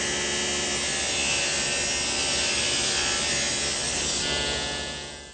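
A table saw rips 5/4 wood stock with the blade raised just over half the stock's height, giving a loud, steady motor whine and cutting buzz that holds throughout, then eases off at the end.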